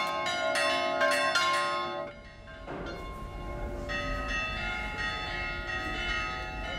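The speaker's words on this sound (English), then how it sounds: "The tolling of the bells calls the whole community together." Church bells toll at a village church in Cyprus, with a clear rapid run of strikes giving way to a dense, sustained ringing wash that carries on alone.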